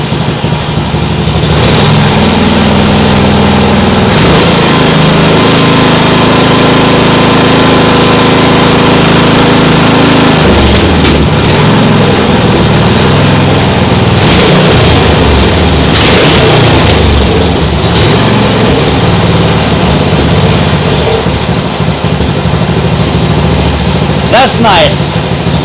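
Nibbi G619 walk-behind tractor engine running loudly and steadily up close, its pitch shifting as the throttle is worked, with a person briefly speaking over it.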